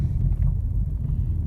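Steady low engine rumble of a car driving along a rural road from a house toward a hayfield, continuous and fairly loud, with no talking.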